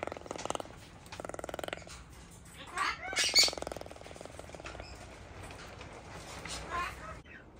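Small parrots, cockatiels and budgies, chatter and squawk in a sanctuary aviary at feeding time, with repeated bursts of shrill calls and trills close by while a person talks over them.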